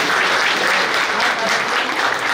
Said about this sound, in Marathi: सरांसाठी पण एकदा जोरदार टाळ्या झाल्या पाहिजे.